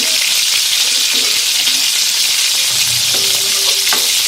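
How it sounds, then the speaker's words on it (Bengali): Chicken frying in oil, a loud continuous hissing sizzle close up, with faint clinks and a short low scrape partway through, no voices. "মাংসতে তেল ছেড়ে দিই।"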